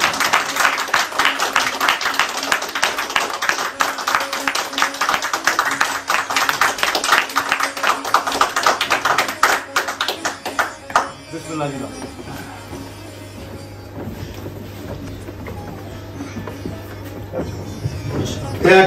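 Audience applause at a trophy presentation, dense clapping for about ten seconds that then fades into quieter crowd noise and murmured talk.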